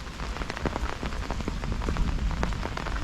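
Heavy rain pours steadily over a green village paddy field, a dense, continuous hiss with countless close drops pattering on surfaces throughout.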